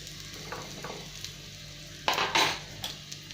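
Stuffed green chilies filled with fresh grated coconut roasting in a kadhai beside more grated coconut: a low steady sizzle, broken by a few short metallic scrapes and clatters as they are turned.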